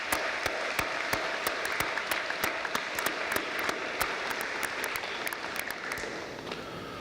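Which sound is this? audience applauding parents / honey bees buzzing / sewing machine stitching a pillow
audience applauding parents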